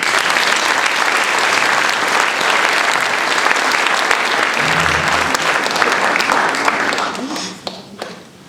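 A large audience at a tenth-anniversary gathering applauds loudly and steadily in a dense, continuous wash of clapping that fades out over the last second or so.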